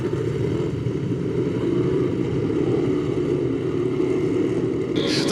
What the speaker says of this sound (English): We've got 7 souped-up machines rumbling onto the oval.